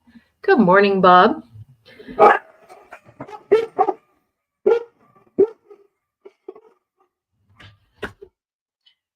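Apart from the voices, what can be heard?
dogs barking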